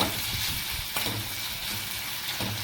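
Onions, ginger, chilies and tomato fry in hot oil, a steady close sizzle with soft stirring scrapes throughout, no voices.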